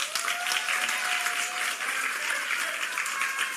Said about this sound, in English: Class of 2026, give yourselves a round of applause.